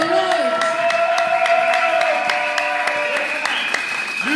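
A church congregation applauds with rhythmic, steady clapping, while a sustained tonal sound, like music or voices, carries alongside at a fairly loud, even level.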